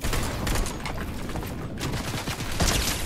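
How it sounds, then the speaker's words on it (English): A steady, loud barrage of video game gunfire runs throughout, rapid overlapping shots with a short gap partway through and a sharper burst near the end. "Shots to the northeast"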